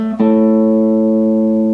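A guitar rings out with the 4th string fretted at 7 and the open 5th string struck together. A short note leads into a firm pluck, and the bright chord sustains alone, decaying slowly.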